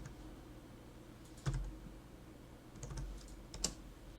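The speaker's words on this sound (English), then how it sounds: "Let me type it." Keys tapped on a computer keyboard while entering a search phrase into a research tool, heard as a few sparse, faint clicks clustered in two brief bursts over a quiet background with no talking.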